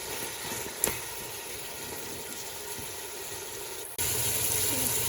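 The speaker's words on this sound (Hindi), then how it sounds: "पानी अब इसमें ऐड करने लगी हूँ।" Water is poured into a pot of potato bhujiya seasoned with fenugreek, ahead of pressure cooking, as a steady close rushing stream that briefly breaks off near the end and then resumes more loudly.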